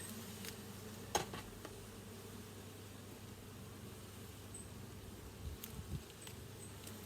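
A low, continuous buzz of many bees near at hand, steady and quiet, with a few faint knocks and brief higher whines passing by.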